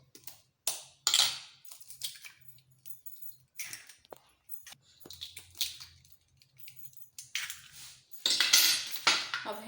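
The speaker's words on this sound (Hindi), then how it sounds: "अब हैंड बीटर से बीट करते हैं।" Eggs are beaten with a hand beater in a bowl, producing irregular bursts of clinking and rattling metal with short pauses between them, close and fairly loud.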